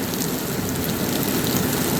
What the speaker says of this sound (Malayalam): ഞങ്ങളുടെ നാട്ടിലും മഴ ഉണ്ട് ഇന്നാണ് മഴ ശരിക്ക് പെയ്യണത്